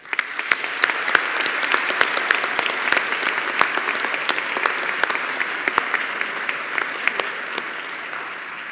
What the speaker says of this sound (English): Graduates, please join me in a round of applause to thank our faculty and staff for their dedication